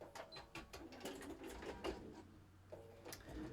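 A sewing machine back stitches along the edge of a self-binding napkin, making quiet rapid mechanical bursts in short runs with brief pauses between them. No one speaks.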